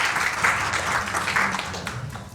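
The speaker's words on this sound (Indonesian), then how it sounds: "Kita kasih tepuk tangan buat kita semua." Brief burst of audience clapping at a leadership talk, moderately loud and steady, tapering off toward the end.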